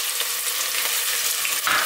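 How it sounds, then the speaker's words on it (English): Onion and garlic frying in a pot for beef stew, giving a dense, continuous sizzle at close range with faint stirring bumps and no voices. "Let your onion brown first before you put your beef in."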